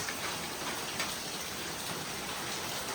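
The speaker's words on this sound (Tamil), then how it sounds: "நல்ல மழை பெஞ்சிட்ருக்கு" Heavy rain pours steadily at a home in Kerala, a dense, continuous hiss of drops drumming on surfaces with no pauses and no voices.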